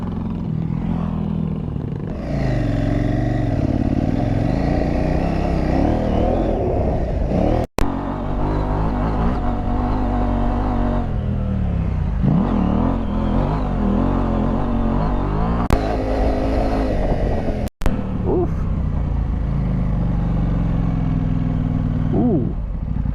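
KTM 790 Adventure R engine revving and pulling hard while riding off-road, a loud close roar rising and falling with throttle changes and gear shifts, with two brief sharp knocks or dropouts.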